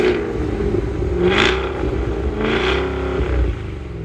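Loud exhaust from a Cadillac Escalade V, two sharp revving blips rising and falling over a rough rumbling idle, close and unaccompanied by speech.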